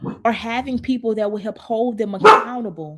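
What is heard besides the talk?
dog barking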